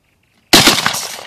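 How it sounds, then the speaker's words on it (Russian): A single loud close gunshot bursts out of silence, a sharp crack followed by a short decaying rumble and reverberation. "Чуть-чуть возьми правее два выстрела."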